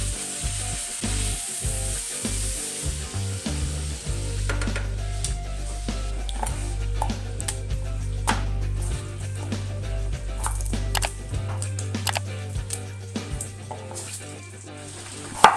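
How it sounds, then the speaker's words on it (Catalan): Steady crackling sizzle of raisins frying in a pan, with a few scraping stirs and occasional clicks, close and continuous with no talking. "Colem les panses i les afegim a la paella. I les deixem fregir una miqueta fins que s'inflin."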